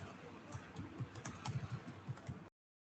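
Fingers tap out code on a computer keyboard, a quick, uneven run of soft, close keystrokes at low volume that stops abruptly.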